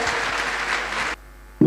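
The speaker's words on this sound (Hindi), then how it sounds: "एक जोरदार तालियां आप होने चाहिए आप सभी के डिसीजन के लिए।" Audience applause, a loud burst of many hands clapping for just over a second that cuts off abruptly, followed by a short thud.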